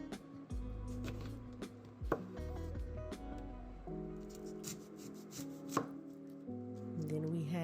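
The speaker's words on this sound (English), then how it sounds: "Then we had to quarter the lemon." A knife chops steadily through a lemon on a cutting board while it is quartered, giving a string of close, fairly loud cuts and board knocks with a lot of handling noise in between.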